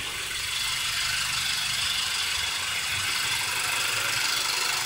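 A 2015 Honda Fit's engine idles in a garage with a dense, steady metallic rattle running over the hum throughout, no voices.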